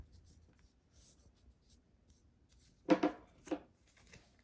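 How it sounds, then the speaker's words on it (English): In a quiet room, scissors make a few brief crisp snips through paper in a quick cluster near the end. "you go and you cut a curve."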